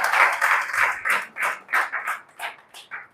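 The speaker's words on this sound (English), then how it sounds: "Clap for me too now." A small group of people at a gathering in Abeokuta claps in uneven bursts, loud and close, the claps thinning and slowing into separate spurts over a few seconds.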